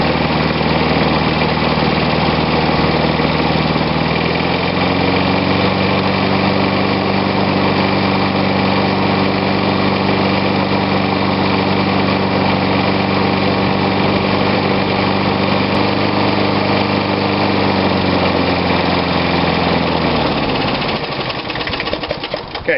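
An old Snapper push mower engine runs steadily and loud, its pitch rising as it is throttled up a few seconds in, then holding a higher, busy drone before cutting down near the end.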